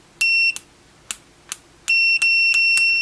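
A Mustool MT8206 graphical multimeter gives a sharp, high continuity beep, first in short separate bursts with clicks between them, then in longer, nearly continuous tones, loud and close.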